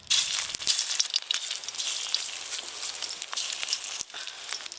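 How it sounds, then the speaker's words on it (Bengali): Shrimp fritters frying in hot oil, a loud continuous crackling sizzle close by with a few sharp pops and clicks, steady from start to finish with no voices. "আর যেগুলো আছে এইগুলো একবারই ভাজা হয়ে যাবে।"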